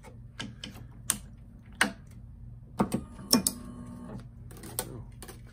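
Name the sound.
Tecnifibre Ergo One tennis stringing machine tensioning a string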